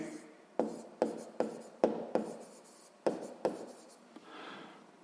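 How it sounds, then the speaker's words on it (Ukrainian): A pen writes out a sixth-grade math solution in a quiet room. Short scratchy strokes come in bursts, each starting with a tap, close and fairly soft, and no one speaks. "Давайте так і запишемо тоді з наступного рядочка."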